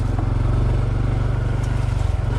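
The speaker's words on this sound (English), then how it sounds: "I'm just putting along in here in 2nd gear and just barely blipping the throttle" Honda CT125 motorcycle putting along a single-track trail in second gear with the throttle barely blipped, a steady close low engine thrum with a quick regular firing pulse throughout, alone without voices.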